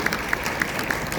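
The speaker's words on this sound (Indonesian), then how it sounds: "tepuk tangan untuk PDJFA." Scattered audience applause at a Rotary district conference in Jogjakarta, with a few distinct claps over a steady background murmur, short and moderately loud.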